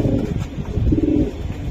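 Racing pigeons coo in a close, continuous low murmur, several birds layered together with steady rolling calls and no speech.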